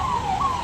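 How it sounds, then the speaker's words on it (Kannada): An ambulance siren stuck in a traffic jam, a brief steady wailing tone that holds clearly over low road rumble. "ಈ ಬ್ಲಾಕಲ್ಲಿ ಆಂಬುಲೆನ್ಸ್ ಸಿಕ್ಕಾಕೊಂಡಿರೋದು"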